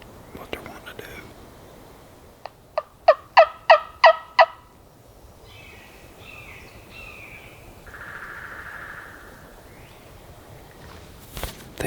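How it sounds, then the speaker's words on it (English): Wild turkeys gobbling in big Alabama woods: a quick sharp gobble early on, then a loud rhythmic series of six or seven rattling notes at mid distance, followed by softer bird calls and faint whispered talk nearby. "They just gobbled at a woodpecker"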